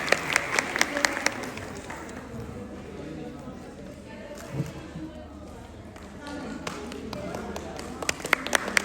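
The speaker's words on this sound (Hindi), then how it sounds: "गोल्डन बॉल के लिए तालियों की आवाज होनी चाहिए" Scattered bursts of clapping at a hair colour demonstration in a Lahore hotel, strongest at the start and end with a quieter stretch between, under talk and background chatter.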